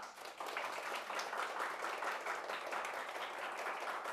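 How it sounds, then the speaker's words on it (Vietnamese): A Vietnamese seminar audience claps together for a picture shown on screen, a steady dense patter of many hands that holds at an even level throughout after a brief softer start. "Dành cho cái hình này một tràng vỗ tay."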